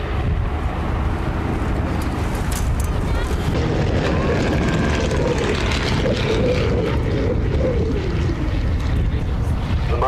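A Spanish CASA-built Junkers aircraft flies past at a Duxford air display, its engine a loud, steady drone mixed with heavy wind noise, with a voice talking over it.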